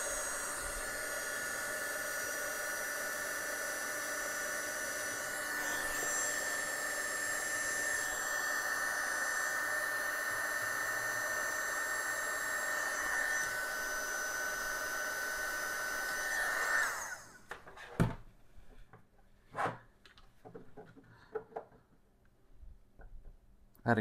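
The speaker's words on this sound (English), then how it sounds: "Connecting minus 12 volts. Heat shrinking it all." A heat gun blows a loud, steady hiss with a whine while shrinking heat-shrink tubing over wires in a power supply build for an Atari 520ST, then cuts off, leaving scattered clicks and light handling noises.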